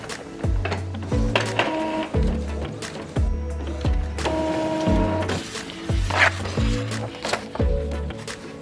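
A printer runs through a T-shirt transfer sent from a phone, its loud, steady mechanical passes repeating in a regular rhythmic cycle of whirs and clunks with no one talking.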